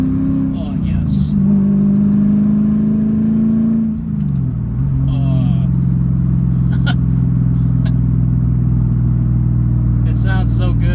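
A manual-swapped Mercedes E55 AMG with an X-pipe exhaust roars through a third-gear pull, its engine note climbing, dipping briefly at a shift, then holding a loud, sustained growl close by.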